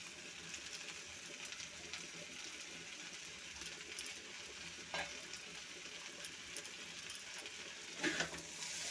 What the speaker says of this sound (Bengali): ভালো করে মিশিয়ে একটু ভাজা ভাজা করে নেব।